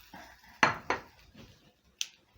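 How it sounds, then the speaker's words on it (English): Fried fish being moved onto a plate, heard as a few sharp clinks and clatters of a utensil against the dish, with two close knocks followed by a lighter tap after a pause. "I'm going to transfer to a plate"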